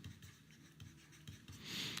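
Chalk or marker writing on a board during a Hindi lesson about diseases, heard as soft repeated scratchy strokes in short bursts, close and fairly faint, with no talk over it.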